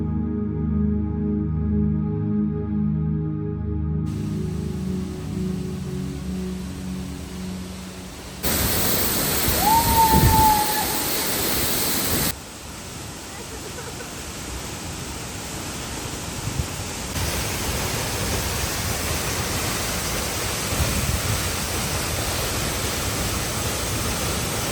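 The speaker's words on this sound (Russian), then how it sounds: "Удивительно, что за этой водяной стихией можно пройти и увидеть водопад с необычного ракурса." Peričnik waterfall in Slovenia with water jets crashing down: a steady, loud broadband roar that shifts in level as the position changes, after a brief stretch of quieter tonal hum at the start.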